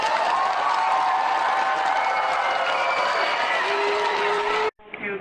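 A crowd of schoolmates cheering and clapping for a soldier's surprise homecoming at a school event, a steady loud roar of shouts and applause that cuts off abruptly near the end.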